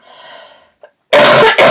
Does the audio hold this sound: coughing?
yes